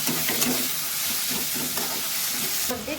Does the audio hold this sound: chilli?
yes